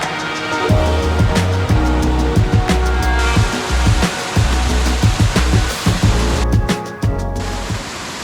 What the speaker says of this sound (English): Alright, so I've made it to the second waterfall here.